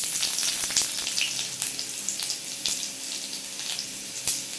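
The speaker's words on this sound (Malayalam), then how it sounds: "അപ്പൊ നമുക്കിനി ചെറിയ ഉള്ളി ഇട്ട് കൊടുക്കാം." Shallots sizzle in hot oil, a crackling hiss with scattered pops and occasional sharper spits, close and steady throughout.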